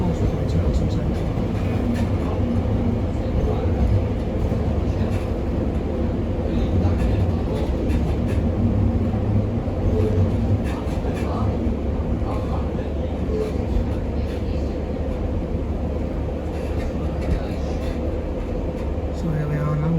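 Train pulling into Wrexham Central station, a steady loud rumble and rolling hum filling the whole stretch with little change, heard from on board.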